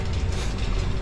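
A toy train in The 7th Guest VR game rumbles along steadily, a low continuous rolling drone with faint rattling, heard alone and fairly close.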